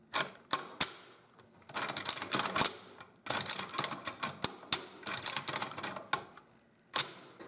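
Rapid mechanical clicking and snapping of an AK-74 rifle trigger mechanism cycling repeatedly in automatic fire, close and crisp, in bursts with short pauses.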